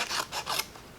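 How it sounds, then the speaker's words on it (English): Small fussy cut scissors snip through paper around a flower shape, a few quick crisp rasping cuts close by. "I'm just going to grab my little fussy cut scissors"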